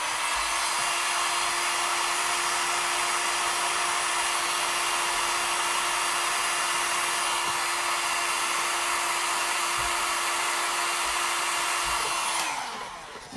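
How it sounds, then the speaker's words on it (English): Hair dryer blowing on freshly separated eyelashes, a loud, close, steady whooshing hum with a constant tone that runs almost the whole time before the motor winds down and cuts off at the end. "I'm going to blow dry the lashes."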